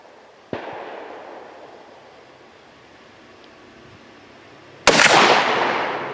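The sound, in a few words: gunshots fired at a target at 15 yards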